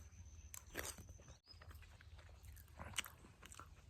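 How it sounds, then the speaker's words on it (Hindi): A first bite into a homemade vegetable dish with onion, garlic, tomato and peas, heard as soft, close biting and chewing crunches in a quiet village setting, with no talking. "चलिए दोस्तों पहला बाइट लेते हैं, देखते हैं क्या है टेस्ट।"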